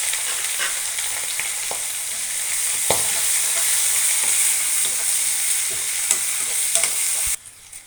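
Onion frying in a pan with curry leaves, finely chopped ginger and two green chillies, a loud continuous close sizzle with occasional stirring clicks and scrapes, cutting off abruptly near the end, with no talk.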